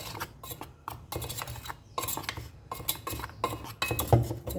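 A spoon clinks and scrapes in a bowl while sugar and cinnamon powder are stirred together for dusting churros, giving irregular close taps and scraping strokes with short pauses between them.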